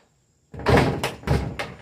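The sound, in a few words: truck door without handle being opened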